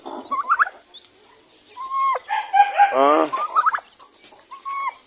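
Newly hatched chicks on a backyard farm give repeated high peeping chirps in short bursts, with a rooster-like crow and clucking in the middle, close and fairly loud, under a few brief spoken words.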